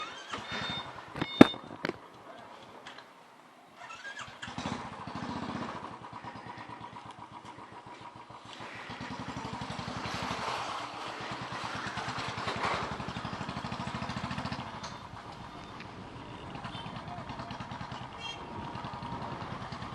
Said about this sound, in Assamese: বাইকৰ আৱাজ কি হৈছে